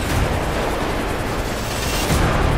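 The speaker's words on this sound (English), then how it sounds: "I hear gunfire down there." Gunfire in the GTA 5 RP video game, a dense continuous rumble of shots and blasts that holds steady throughout, with a louder surge near the end.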